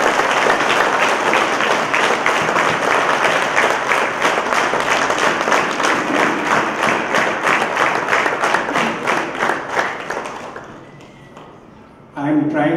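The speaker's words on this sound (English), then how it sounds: "Let us give them a bigger applause." A large audience applauds at a Sahaja Yoga ashram inauguration in Hyderabad: loud, dense, sustained clapping that fades out near the end before a brief burst of sound returns.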